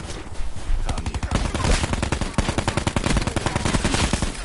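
Video game gunfire, dense rapid automatic bursts rattling nearly nonstop and loud throughout the stretch.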